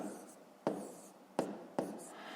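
A pen or chalk writes by hand during a fifth-grade math exercise, a faint steady scratching with a few sharp taps spaced through it.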